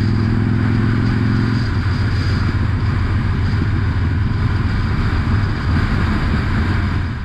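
A Harley motorcycle ridden through the streets of Rochester, NY, its engine giving a steady loud low rumble with a throbbing beat and constant wind rush, idling briefly before the rider pulls away.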